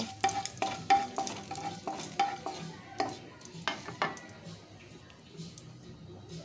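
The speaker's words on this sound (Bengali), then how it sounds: "খুব হালকা আঁচের মধ্যেই আমি ফোড়নটা ভেজে নিচ্ছি" Whole spices for a tomato and kul chutney fry gently in oil over a low flame, a soft sizzle broken by a regular series of clinking, scraping stirs of a spoon against the pan, close and clear.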